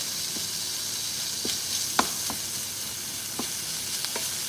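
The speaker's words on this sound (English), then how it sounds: "I'm just cooking the minced beef on low heat, and just like breaking it up so it's not clumpy" Minced beef frying in a pan on low heat while being broken up, giving a constant soft sizzle with scattered light scraping and tapping clicks from the utensil, close and steady, no talking.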